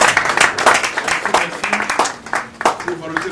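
A congregation at a funeral ceremony claps in a steady, rhythmic pattern, with voices singing or calling out over the brisk, close clapping throughout.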